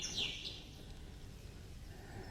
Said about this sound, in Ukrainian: Чуєте, як солові співають.